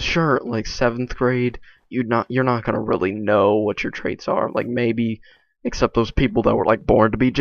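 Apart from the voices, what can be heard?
None of the usual background noises is heard.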